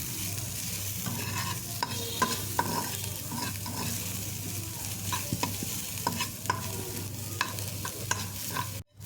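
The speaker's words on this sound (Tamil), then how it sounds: "இது கூட கொஞ்சமாக சால்ட்டு சேர்த்து நம்ம வந்து ஃப்ரை பண்ணோன்னா சீக்கிரம் வெங்காயம் வந்து சுருண்டு வந்துடும்" Onions frying with a little salt in a pan for a bitter gourd dish, a steady close sizzle broken by repeated scraping stir strokes, with no voices.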